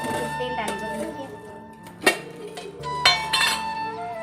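A kadhai wok is set on the stove and oil is added, bringing metallic clanks and a couple of sharp clinks of cookware over a steady hum, with a voice talking nearby.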